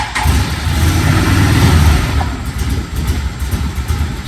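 A Can-Am engine with a suspected failing fuel pump or filter revs unevenly, starving for fuel: a loud, close, rough rumble that surges and sags without settling into a steady pitch.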